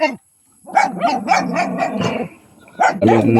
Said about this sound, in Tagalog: Daming aso rito.